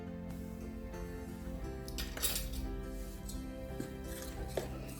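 A spoon clinks and scrapes against a bowl while stirring idli batter with rice flour, giving a run of light metallic taps and scrapes, close and fairly quiet, with a few sharper clinks.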